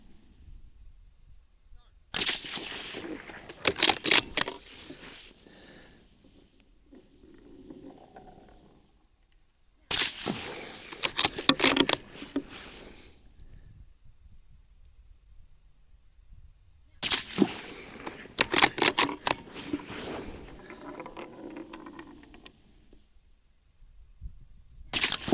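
Three separated volleys of rifle shots from a Ruger Gen 2 aimed at targets downrange, each a cluster of sharp, loud cracks with echoing tails and quiet gaps between.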